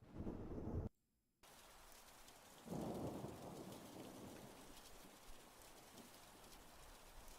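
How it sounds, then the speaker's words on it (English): Heavy rain falls steadily as a played sound effect, with a burst and a brief dropout near the start, then a dense, continuous hiss with low thunder-like rumble, no voices over it. "Maybe just a rain sound."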